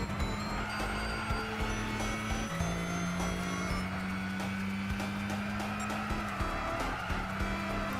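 Nissan Silvia racing in Gran Turismo 6, its engine drone climbing and shifting pitch through gear changes while tires squeal, continuous and fairly loud with no talking.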